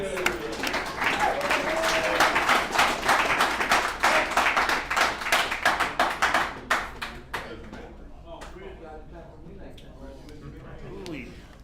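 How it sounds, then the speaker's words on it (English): An audience at an alumni meeting of a recovery services group claps for the next speaker, starting dense and loud, then thinning into scattered individual claps that die away. "Please give him a round of applause"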